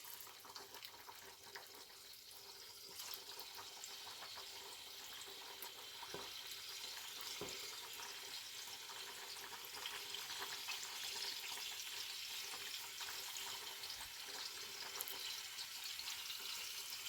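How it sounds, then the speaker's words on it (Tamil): Marinated elephant foot yam pieces fry in hot oil with a steady, faint, hissing sizzle and occasional soft crackles and pops throughout, with no talking. "இது மாதிரி ஒன்று ஒன்றா வச்சு எடுத்து பொரித்து எடுத்துக்கணும்."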